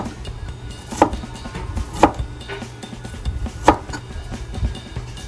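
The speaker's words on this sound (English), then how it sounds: "so you just kind of go along and slice it this way" A knife slices food into matchstick strips on a cutting board for Japanese hiyashi chuka, giving a few sharp, close board-thuds spaced about a second apart over a quiet kitchen background.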